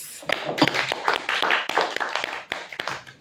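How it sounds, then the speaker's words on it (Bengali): A small group claps in thanks to participants at a gathering, with quick uneven claps mixed with indistinct background voices throughout. "তো আমাদের সকলের জন্য আমরা সবাই একটা ক্ল্যাপস।"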